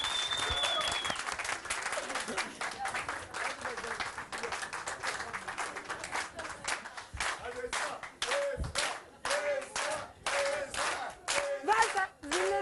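A Turkish TV matchmaking show's studio audience applauds loudly: dense, sustained clapping that grows choppier toward the end, with voices talking over it.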